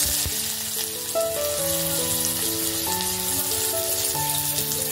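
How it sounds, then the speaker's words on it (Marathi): Onion frying in hot oil in a cooking pot, a loud steady sizzle close by, with a soft musical melody playing in the background. "टोपामध्ये आता आपण तेल गरम करायला ठेवलंय. कांदा टाकूया."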